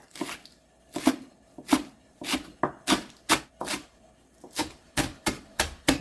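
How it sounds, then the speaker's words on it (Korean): A knife chopping green onions (chives) on a cutting board, with crisp, uneven taps coming in quick bursts and short pauses, close and clear. "양념장에 들어갈 재료를 썰어 보겠습니다"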